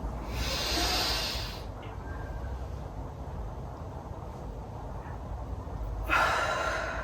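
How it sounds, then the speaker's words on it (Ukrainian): A deliberate preparatory breath in a joint gymnastics routine, a long hissing inhale, then a quieter held stretch and a second breathy exhale near the end, heard up close. "підготовчий дих і підхід виглядає ось так"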